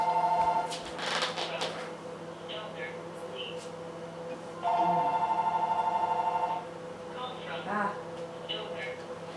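Office telephone ringing in two electronic trilling bursts, one at the start and a longer one midway, amid nearby talking and handling noise.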